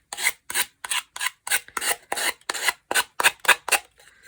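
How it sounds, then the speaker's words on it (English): Rhythmic rasping strokes of a sanding block on a paper edge, about a dozen even back-and-forth passes, close up and alone, with no talking. "as you're sanding on an angle here, the paper just sort of comes off"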